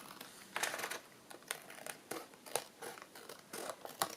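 Scissors trimming along the edge of sealed paper envelopes, a series of quick crisp snips and paper rustles repeating at an irregular rhythm, close and fairly quiet.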